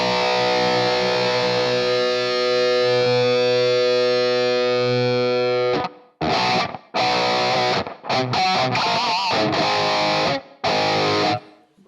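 Guitar through a Flamma FS02 reverb pedal on a room setting: a long sustained chord rings for about six seconds, then a run of short choppy strums with brief gaps follows, loud and close with no talking.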